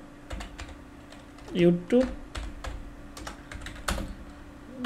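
Quick keystrokes on a computer keyboard, clustered taps close up while typing a project name, with a brief murmur of voice partway through.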